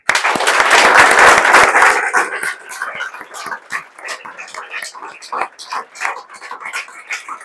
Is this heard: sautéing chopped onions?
no